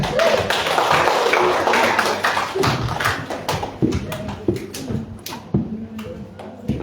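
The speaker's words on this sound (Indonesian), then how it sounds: "silakan tepuk tangan dulu buat Pak" A lecture audience applauds a guest with sustained, dense clapping that gradually thins into scattered individual claps.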